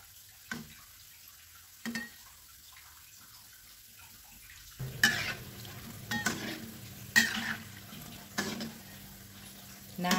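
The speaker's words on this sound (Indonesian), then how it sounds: "kita akan goreng adonan tahunya sampai matang" Tofu batter frying in hot oil until cooked: a soft, steady sizzle that grows fuller midway, broken by several brief clinks and stirring scrapes of a utensil in the pan.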